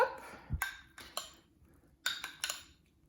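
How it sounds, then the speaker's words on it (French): A spoon stirs a microwaved mixture in a bowl, giving several light clinks and scrapes against the dish in two short bursts, quiet and close, with no voices. "Donc là, je mélange un petit coup."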